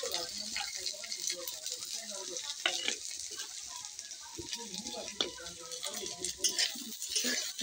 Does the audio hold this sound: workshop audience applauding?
no